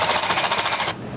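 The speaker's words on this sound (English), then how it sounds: "take a slightly larger bit that'll match the flare of the screw and drill in just a little bit to countersink it" A power drill with a slightly larger bit countersinks screw holes in a wooden pottery wheel, a loud close whirring buzz that pulses briefly and then cuts off.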